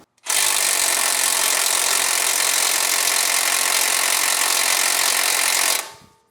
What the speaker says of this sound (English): let's see if the power tool does the job